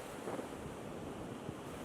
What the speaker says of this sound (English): flocks of oyster catchers flew by as we sat there watching the waves